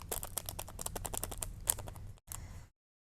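Small plastic diamond painting beads pour into a tray for a Christmas card craft kit, making a dense, rapid rattle of tiny clicks that runs for about two seconds, breaks off briefly, then resumes for a short final spill.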